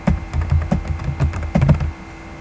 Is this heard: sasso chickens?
no